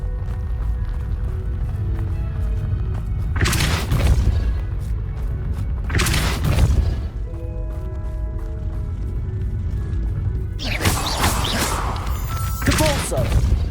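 Depulso spell blasts cast in Hogwarts Legacy, three loud bursting whooshes roughly every three seconds over a steady droning game background, with a fourth burst near the end.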